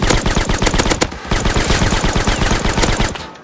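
Rapid automatic gunfire in the survival game Rust, loud and close, a steady burst of shots rattling on for about three seconds with no talk, then cutting off.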